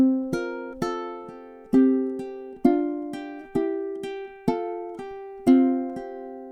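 Ukulele strumming measures 19 and 20 of Deck the Halls, a steady run of bright plucked chords struck one after another with ringing decay, played alone and close without voices.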